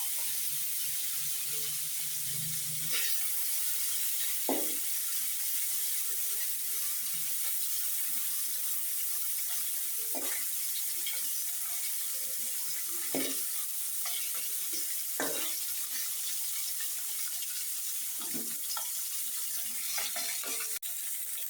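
Fish frying in oil in a pan for a tangy tomato, eggplant and jujube curry, with a steady low sizzle throughout and scattered scraping and clinking from stirring at irregular intervals.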